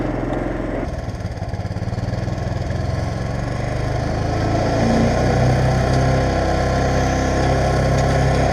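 A 1959 Case 700 tractor fitted with an 11hp Honda engine runs close by, a steady mid-pitched engine drone with a constant harmonic hum that grows slightly louder and rougher halfway through, as if under load while pulling.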